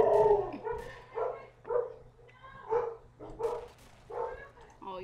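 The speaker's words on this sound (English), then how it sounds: "Oh, your dog is barking." A household dog barks repeatedly in the background of an online voice chat during a modded Killing Floor gaming session: about seven evenly spaced, moderately faint barks with a steady low hum beneath.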